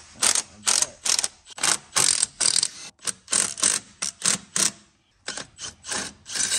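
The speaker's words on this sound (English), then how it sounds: "let's grab a 10 millimeter socket. We're going to take off this dampener right here" A ratchet with a 10 mm socket clicks in quick, steady bursts as it loosens the dampener on a Corvette C7 engine. The loud, close clatter is separated by brief pauses, with no talking over it.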